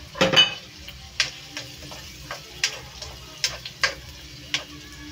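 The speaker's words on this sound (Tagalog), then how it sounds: "Haluin lang natin hanggang sa mag-golden brown na yung ating bawang." A spatula scrapes and stirs garlic and onion frying in a pan, with repeated sharp scraping strokes over a steady low sizzle, close and fairly loud, no voices.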